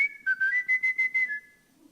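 A person whistles a quick, tuneful phrase imitating a mockingbird's song. It comes as about six short, pulsing notes with small pitch steps, close and clear with no talking.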